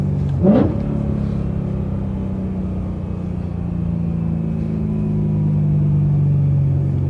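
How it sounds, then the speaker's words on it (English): BMW E92 M3 with a Venturi intake and plenum, its engine rumbling steadily at close range with a brief sharp rise early on and a slowly building drone later, no talk over it. "The Venturi intake is, you can hear it."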